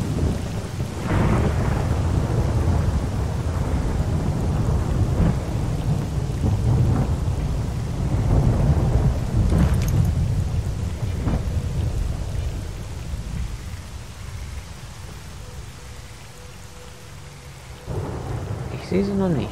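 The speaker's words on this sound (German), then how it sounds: "Wir haben das Gewitter auf unserer Seite" Steady heavy rain pours throughout a thunderstorm in the S.T.A.L.K.E.R. Call of Pripyat video game, with deep rolling thunder rumbles swelling and fading over it and no voices.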